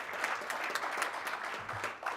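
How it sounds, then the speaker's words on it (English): A Rotary Club of Tulsa luncheon audience clapping hands, a soft, moderately dense round of applause heard at some distance. "Clap your hands."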